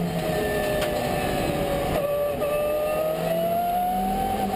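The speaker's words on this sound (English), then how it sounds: "On board again with Hamaguchi of Japan." On-board engine sound of a GT race car lapping Okayama circuit, a loud steady roar that slowly climbs in pitch as the car accelerates.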